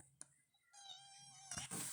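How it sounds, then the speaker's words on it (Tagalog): A small female cat gives a single drawn-out meow at close range, with a faint click before it and some rustling noise at the end. "Say meow!"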